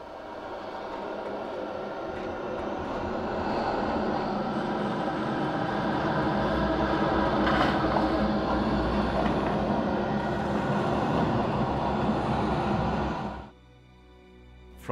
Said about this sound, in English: And it sounds like this in-game.